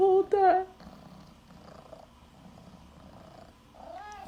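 A house cat lets out one short, rising-and-falling meow near the start, followed by a soft, low purring rumble and a faint second mewing sound at the end.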